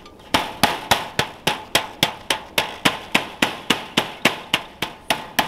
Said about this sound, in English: we're folding it over and hammering it with a rubber mallet